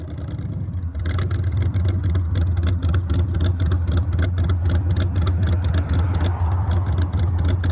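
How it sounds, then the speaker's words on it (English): A drag racing car with a 4-link suspension, top bar relaxed to about 10 degrees, runs with a loud, steady low engine drone that swells slightly as it pulls away, close and continuous throughout. "So let's hear how the car does here"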